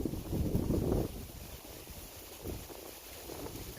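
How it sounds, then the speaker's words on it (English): Wind blowing outdoors, a steady rushing roar with gusty low buffeting against the microphone, strongest in the first second and then settling to a softer continuous bluster, with no voices. "I don't know if you guys can hear the wind in the background"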